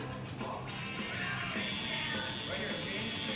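A tattoo machine buzzing during tattooing, a steady close electric whine that grows louder and brighter partway through, with faint voices in the background.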